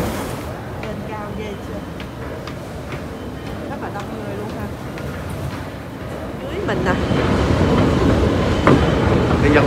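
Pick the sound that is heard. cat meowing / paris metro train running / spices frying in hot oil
paris metro train running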